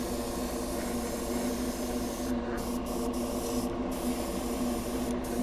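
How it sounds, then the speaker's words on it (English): An airbrush sprays plain air with no paint inside a hobby paint booth during work on a 1:1000 Polar Lights Klingon D7 Battlecruiser model kit, giving a steady, close hiss over a constant droning hum. "So now we're just spraying air."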